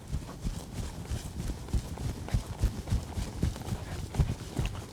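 A horse lopes in an arena, its hoofbeats landing in a steady rolling three-beat rhythm on soft ground, moderately close and continuous with no talking.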